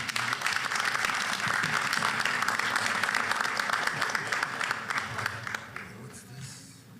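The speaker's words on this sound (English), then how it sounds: "I'll ask everyone to please give her a round of applause as she comes" A university board meeting audience applauds an IBM Master's Fellowship winner with a dense, sustained wash of clapping that holds steady, then tapers off over the last couple of seconds.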